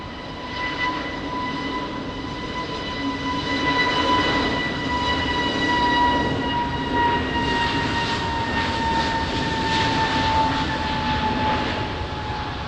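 An airliner on its takeoff run from runway 20 at Lisbon Airport in rain, a steady distant jet engine roar with a whining tone that swells slightly in the middle.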